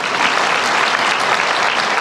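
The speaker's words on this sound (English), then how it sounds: "Please give her a round of applause." Graduation audience at an HDMC ceremony in Temecula applauding, a dense, even wash of clapping that holds at full volume throughout, close and loud.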